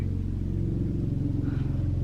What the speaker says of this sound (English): That's a helicopter, I swear.